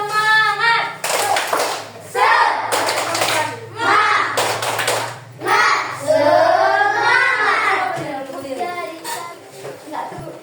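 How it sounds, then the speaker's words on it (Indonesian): Children in a classroom clap out the rhythmic "tepuk semangat" spirit clap in quick bursts of patterned hand claps, mixed with lively voices chanting and talking. "Coba kita tepuk semangat dulu ya."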